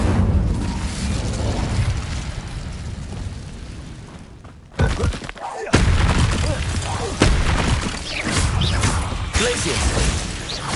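Fire spell cast in Hogwarts Legacy combat, a loud booming blast amid dense, continuous game effects, with a sharp drop and a fresh burst near the middle.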